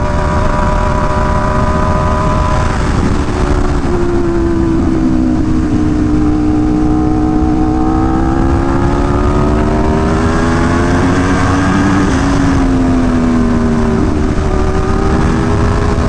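A motorcycle engine drones loudly and steadily while riding on a bumpy road among traffic, its pitch rising and falling with throttle changes, with wind noise and no talking.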